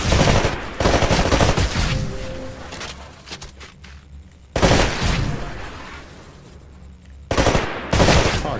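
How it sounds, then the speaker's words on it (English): Rapid bursts of rifle fire hit shooting-range targets in the video game Titanfall, loud and close, in three long volleys separated by short pauses. "To take a more calculated shot, you can aim down the sights of your weapon. Destroy all of the targets in the shooting range."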